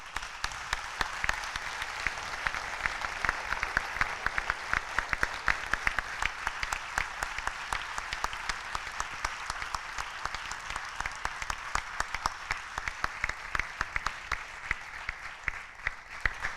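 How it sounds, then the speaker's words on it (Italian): Audience applause at the closing concert of a Veneto choir festival in Belluno: dense, sustained clapping from a large crowd, heard at moderate distance and lasting the whole stretch, loudest early and easing slightly toward the end. "Quindi vi chiedo un applauso."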